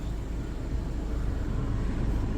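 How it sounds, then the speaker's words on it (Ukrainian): A 2009 Volkswagen Caddy with a gas/petrol engine and manual gearbox idles at a used commercial vehicle market in Rivne, giving a quiet, steady low rumble that holds evenly throughout without any voices. "От заведений двигун. Чуєте, як працює."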